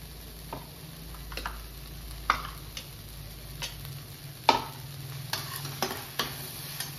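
Ginger-garlic masala sautéed in a pan for chole, a soft, fairly faint sizzle under scattered sharp clicks and scrapes of a spoon stirring at an uneven pace, with no voices.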